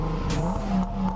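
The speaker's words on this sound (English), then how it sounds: "His Mustang's so loud." A Ford Mustang engine revs loudly up close in a short, rough burst, its deep exhaust roar rising and falling.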